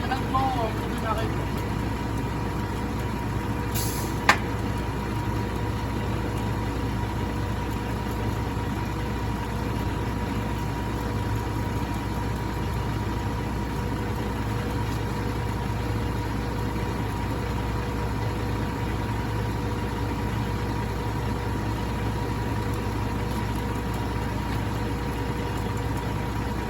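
A stationary engine rumbles at a steady idle for the whole stretch, a constant close drone with one brief sharp click near the start and voices speaking over it.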